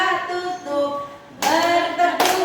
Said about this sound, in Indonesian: Buka tutup tepuk tangan lagi.